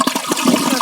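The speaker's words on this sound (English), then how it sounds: "And I'll show you another flush." A new toilet tank flushes, a brief loud rush of water swirling through the bowl, heard close up and alone.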